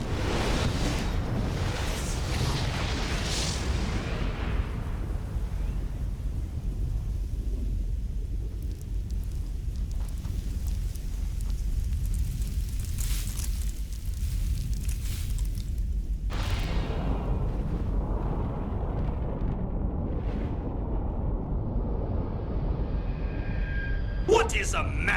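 Explosion in the Metal Gear Solid video game: a heavy booming roar and rumble that swells, trails off, then bursts again, mixed with talking throughout.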